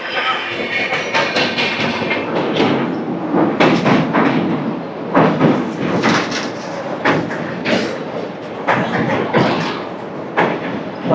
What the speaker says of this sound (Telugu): పక్కన ఏదో ట్రైన్ అయితే క్రాస్ చేసుకుని వెళ్తుంది